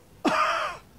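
A single short, harsh cough, close and fairly loud, lasting about half a second with quiet around it.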